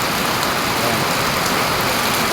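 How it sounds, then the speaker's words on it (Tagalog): Heavy rain pours down steadily, a dense, loud hiss of drops with no pauses throughout. "Ayan, ang lakas ng ulan."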